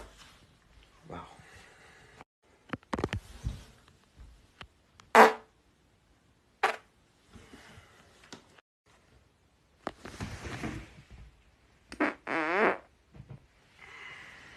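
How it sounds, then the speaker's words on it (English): A young man's farts, close up, including one sharp loud burst and several rougher ones, scattered among people talking and quiet shuffling. "You said two per fart, nice and close."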